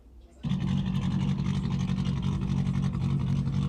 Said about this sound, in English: Look at the sound of that car.